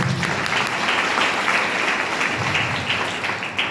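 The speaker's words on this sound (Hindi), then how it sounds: "सर के लिए ताली होना चाहिए।" An audience at a lecture claps together in a steady, dense burst of applause lasting several seconds, fairly loud and close, with no speech over it.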